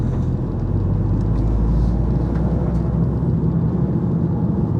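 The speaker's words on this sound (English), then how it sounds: "You can hear the induction sound and you can get a sense of that exhaust" A Toyota GR Yaris being driven produces a steady, loud low-pitched drone of induction and exhaust noise inside the cabin, holding even throughout with no voices.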